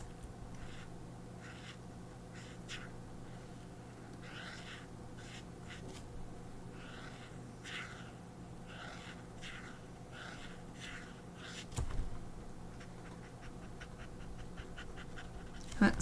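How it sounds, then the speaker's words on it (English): A small dog pants in quick rhythmic bursts at close range, with soft scratchy marker strokes on paper in a quiet art studio and a brief snort-like thump near the end. "Chappie just had a little snoof. Chappie is my small dog"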